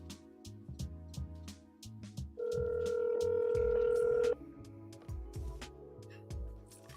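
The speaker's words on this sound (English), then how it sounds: "I'm gonna make a quick phone call here." A telephone call is dialed and rings: a steady, loud ringback or dial tone holds for about two seconds mid-clip, set against background elevator music with a regular beat before and after.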